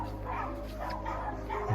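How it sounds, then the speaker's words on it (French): Hunting dogs, shut in a pen out of sight along a countryside walking route, bark and yip continuously from a moderate distance. "Chiens de chasse."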